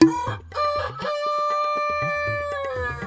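A chicken clucks and crows in a Bangla comedy horror drama, loud and close, with a sustained cackling call and choppy clucks over a few seconds.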